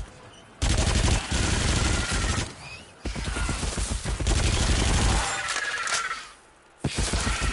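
Bursts of Uzi submachine gun fire, two Uzis, crackle loudly in a video game, with long rapid volleys broken by short pauses and some shattering impacts mixed in.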